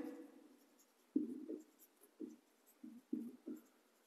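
Writing on a board during a chemistry lesson on redox reactions comes as six or seven short, scratchy strokes in quick groups, quiet and close, with no talking.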